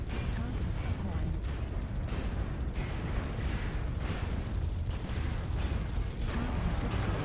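Heavy weapons fire from a Warhammer WHM-BW Black Widow mech in MechWarrior Online, a dense continuous barrage of booming blasts and explosions with repeated sharp impacts, loud and close throughout.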